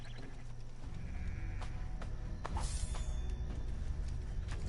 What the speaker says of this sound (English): Be quiet, sheep.